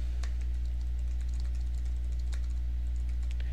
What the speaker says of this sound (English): all I need to do is to start typing